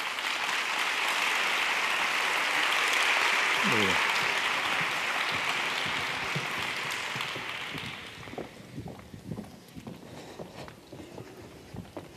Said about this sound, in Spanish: Vamos a recibir con un fuerte aplauso a estos ponentes.